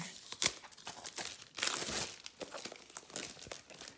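Plastic wrap crinkles and tears as a Book of Shadows grimoire box is cut open, a close run of sharp crackling and ripping bursts with no talking.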